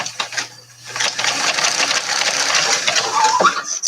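A sewing machine runs steadily close by, its needle chattering in a fast even rhythm as it stitches a zigzag on a makeup pouch, slowing briefly near the end.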